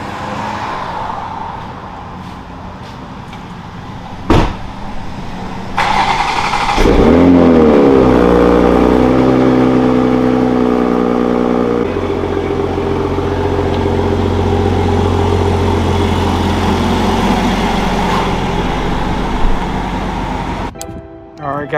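A 2020 Toyota Supra engine cranks and starts, then revs and settles into a steady running drone as the car drives off, loud and close.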